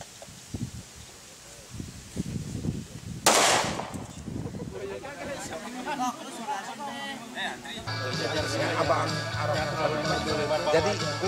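A single sharp, loud pistol shot cracks out at a shooting range using a Kopassus special-forces handgun, surrounded by people talking and background chatter before and after.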